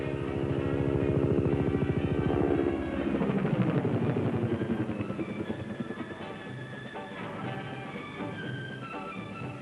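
An attack helicopter under fire passes close by, its heavy rotor thumping loudly and steadily at first, then fading slightly as the engine drones on.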